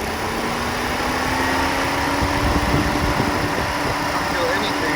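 A 2016–2018 Chevy Cruze engine idles at a steady, fan-like hum close by, being run to check vacuum for a faulty brake booster, with a faint whine on top.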